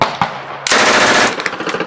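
An automatic gun fires a short burst of rapid, loud shots at close range, preceded by a couple of single sharp reports.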